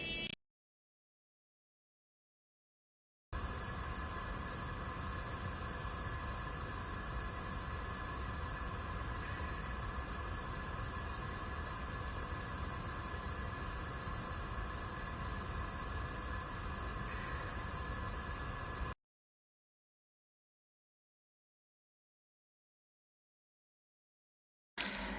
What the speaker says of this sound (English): The periodic venting sound you hear is normal as we vent chilled gas from above the LOX tank to maintain constant pressure.